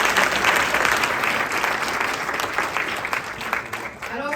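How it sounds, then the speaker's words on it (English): An audience applauds together at a community breakfast, a steady dense wash of clapping that holds loud for several seconds and thins near the end. "Another round of applause for Barry."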